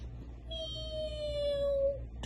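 A human voice imitates a cat's meow during a told story, one drawn-out, rising then falling mew lasting about a second and a half, close and clear over a low background hum.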